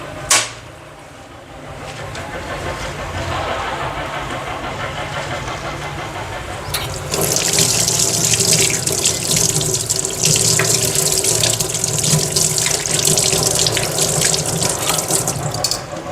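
A kitchen tap runs into a sink while metal tongs are washed, starting with a sharp clank, then steady water flow that turns louder and more splashy partway through.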